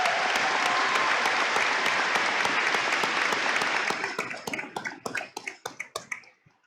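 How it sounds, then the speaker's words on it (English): Commencement crowd applauding for graduates at a Caldwell County graduation ceremony: a dense, loud roar of clapping that thins after a few seconds into scattered individual claps before fading out. "Let's give these graduates another round of applause."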